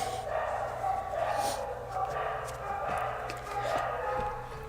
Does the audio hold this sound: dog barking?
yes